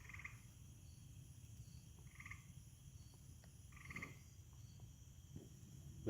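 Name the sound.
gray tree frog calling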